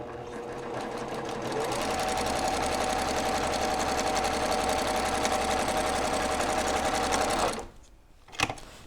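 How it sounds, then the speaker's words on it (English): A sewing machine stitches a quilt half-square triangle seam a quarter inch from a drawn line, a steady loud rapid needle whir running continuously before stopping abruptly near the end, followed by a brief click. "That means the needle will stitch on the red line 1/4 inch away, like this."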